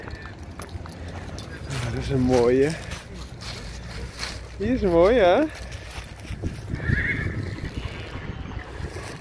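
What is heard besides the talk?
horse neighing and hooves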